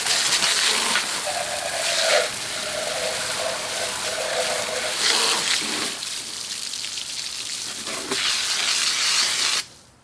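A car's wheels are rinsed with a strong water spray during a two-bucket car wash, a loud hissing stream with shifting pitch as the spray moves, cutting off abruptly at the end.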